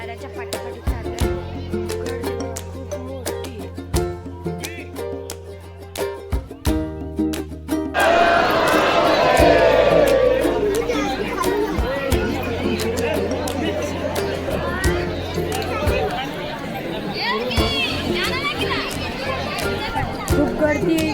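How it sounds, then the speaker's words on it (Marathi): A large, densely packed crowd chatters in a loud, continuous babble of many overlapping voices, swelling about a third of the way in after quieter tonal sounds and then holding steady. "खूप गर्दी आहे इकडं"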